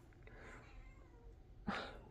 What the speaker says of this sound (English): I can't write with the cat meowing.